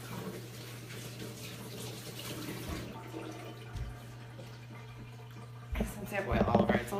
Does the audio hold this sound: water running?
yes